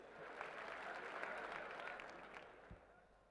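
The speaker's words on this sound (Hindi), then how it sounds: "जोरदार तालियों से उनका स्वागत करें" Audience applause greets Union minister Nitin Gadkari at a rally during Prime Minister Narendra Modi's visit to Dausa district, Rajasthan, a steady wash of clapping from a crowd that holds fairly even and quiet before easing off slightly.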